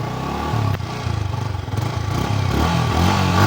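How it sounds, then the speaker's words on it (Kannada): A Yamaha R15 V4 155cc sport motorcycle revs up close, its exhaust note rising in loud repeated throttle blips over a steady idle, with some mechanical clatter mixed in. "ಎಕ್ಸಾಸ್ಟ್ ನೋಟ್ ಕೇಳಿಸ್ತೀನಿ ಬನ್ನಿ."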